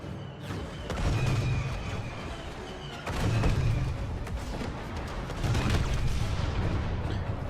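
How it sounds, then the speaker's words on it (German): Barricades blow up in the Star Wars Battlefront 2 campaign, a series of heavy booming blasts, roughly three separate bursts, each with a thudding low impact and crackling debris trailing off, under a constant dense battle din. "Das ist mir geil, Barrikaden explodieren."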